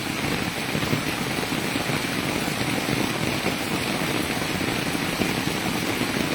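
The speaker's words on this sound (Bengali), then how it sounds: "অনেক বৃষ্টি বৃষ্টির কারণে ঘর থেকে বের হওয়ার খুবই অসুবিধা হচ্ছে" Heavy rain pours steadily over a village, a dense, continuous hiss of water falling on surfaces close by with no break in intensity.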